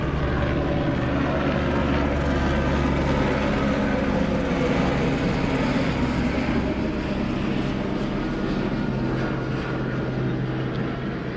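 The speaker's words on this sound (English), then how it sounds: "this guy wants to drive his helicopter right now" Helicopter engine and rotor roaring steadily nearby, a loud dense drone that fills the whole stretch without pause, with no talking over it.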